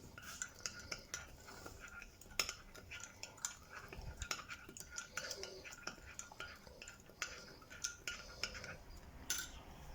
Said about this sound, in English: And now I will give it a mix.